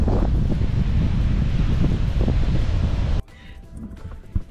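Strong wind buffeting the microphone outdoors on the coast near Albany, a loud continuous low rumble that suddenly drops to a quieter background with faint gusts.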